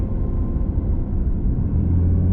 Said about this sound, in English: There's an Audi R8 behind me